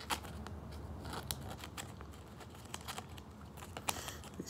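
Crisp plastic rustling and scraping as a penny sleeve is slid onto a 2019-20 Grant Williams rookie basketball card, a series of short close crinkles and clicks with no talking.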